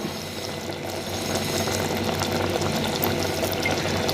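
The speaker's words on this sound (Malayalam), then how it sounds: "ഇനി കുറച്ച് പച്ച വെളിച്ചെണ്ണ ഒഴിച്ച് കൊടുക്കാം" Raw coconut oil poured into a Kannur-style fish curry, a soft steady liquid trickle and gentle sizzle that swells slightly after the first second and holds at a low, even level with no talk.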